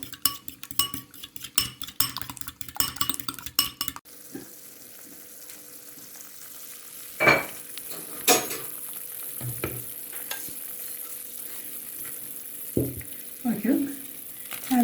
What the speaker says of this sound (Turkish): Şimdi çırpmaya devam ediyoruz